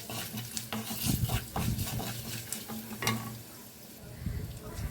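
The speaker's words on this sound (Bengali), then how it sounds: "এখন আমি এই মশলাগুলোকে একটু তেলের মধ্যে ফ্রাই করে নেব যাতে মশলা কাঁচা গন্ধটা চলে যায়" Spices with about half a spoon of oregano fry in hot oil, giving a steady close sizzle broken by clinks and scrapes of a spoon stirring against the pan.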